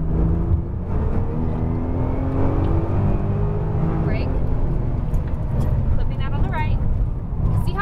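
A Nissan GT-R on a racetrack drones steadily as its engine pulls and rises under acceleration, heard from inside the car beneath continuous talk.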